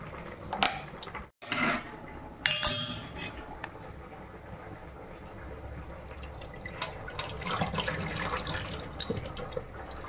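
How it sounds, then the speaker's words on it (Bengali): Boiled, salted river snails being drained, with water splashing and dripping close by, a brief pour at the start followed by irregular drips and trickling. "এখানে গুগলিকে দিয়েছি নুন দিয়ে সেদ্ধ করতে, সেদ্ধ হয়ে গেছে, এরপর ছেঁকে নেব"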